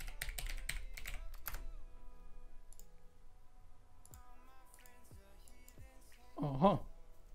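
Password being typed on a computer keyboard: a quick run of close, light key clicks at the start, then sparse taps and a louder click near the end, with a faint voice in the background.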